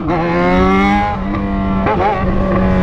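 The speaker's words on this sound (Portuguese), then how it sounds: "Eu tô ligado que vocês queriam ver o ronco da XJ de novo" A Yamaha XJ6 motorcycle with a straight-pipe exhaust roars loud and close. The steady, throaty drone shifts pitch slightly as the throttle changes.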